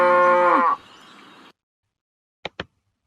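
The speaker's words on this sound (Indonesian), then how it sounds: "Cow." One loud, drawn-out cow moo falls off sharply, followed by a little low noise and then two quick, sharp clicks in near silence.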